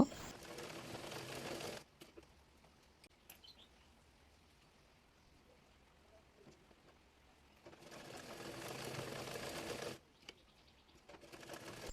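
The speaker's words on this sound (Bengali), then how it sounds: "এরপর কাঁধ সেলাই করে নেব।" An electric sewing machine stitches the shoulder seam of a child's frock made from fabric scraps, running in two steady whirring bursts at the start and end, with a quiet pause between them and no talking.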